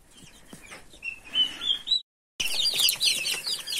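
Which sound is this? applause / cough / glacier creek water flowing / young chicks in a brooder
young chicks in a brooder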